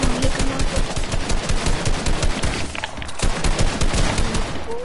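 Dense bursts of automatic gunfire from a video game crackle nonstop at close range, loud shots overlapping with a brief lull near the middle before the firing resumes.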